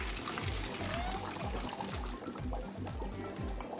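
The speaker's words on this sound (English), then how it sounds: "Now it's time to drain the shells." Hot water from cooked pasta shells pouring out into a strainer, a continuous close splashing and gurgling stream with a faint rhythmic background beat beneath it.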